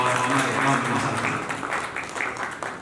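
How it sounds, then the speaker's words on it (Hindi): Audience applause at an awards ceremony with poetry and music, a broad steady wash of clapping that fades slightly toward the end. "जोरदार तालियों से शबीर भाई के और हमारे राव महबूब साहब।"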